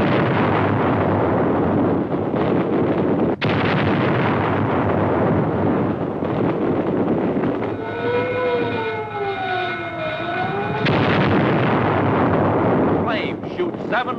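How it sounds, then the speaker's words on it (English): Oil drums exploding in a large midnight fire in 1949, heard as a loud, continuous roaring rumble with a sharp blast near the start, a rising and falling siren-like tone midway, and narration over it. "Oil drums explode in the blistering heat in fiery clouds like atomic blasts."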